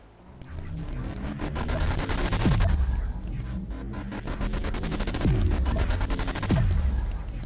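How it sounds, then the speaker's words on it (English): Grenade blasts and gunfire in the VR arena shooter Blaston, with dense rapid shot bursts and several booming explosions whose tails sweep downward, loud and continuous throughout. "Dangerous nades from Alpha"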